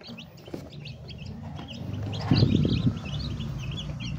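Newly hatched chicks peeping in a basket, with rapid high chirps scattered throughout, some rustling and handling noise nearby, and no talking.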